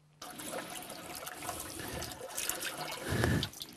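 Spring water flows at a forest spring near the Lielupe river in Latvia, making a continuous close splashing and trickling that grows louder toward the end.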